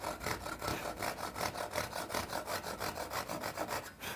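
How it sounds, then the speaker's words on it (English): A hand saw cuts across the end grain of a wooden board for dovetail tails, its steady back-and-forth strokes rasping close and evenly, about three strokes per second, with no talk. "I can start sawing, and as I'm doing so, I'm lowering the saw"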